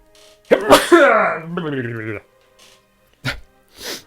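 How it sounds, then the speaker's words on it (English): A loud, drawn-out voiced sneeze with a wavering, almost sung tail, followed by a couple of short sniffs or breaths nearby. "I'm going to sneeze."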